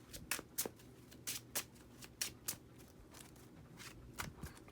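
A deck of Yu-Gi-Oh trading cards being shuffled by hand, with a series of short, crisp riffling bursts coming in an irregular rhythm, close and moderately quiet.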